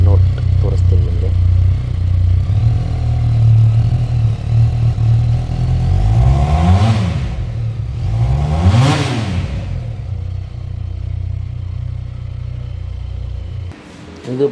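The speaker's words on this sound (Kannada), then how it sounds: "ಮತ್ತು ಇದರ ಸಹ ಎಕ್ಸಾಸ್ಟ್ ನೋಟ್ ತೋರಿಸ್ತೀನಿ ನಿಮಗೆ." A Moto Morini 649 cc motorcycle idles with a loud, close exhaust burble, then is blipped twice in quick succession, each rev rising sharply and falling away before it settles back to idle.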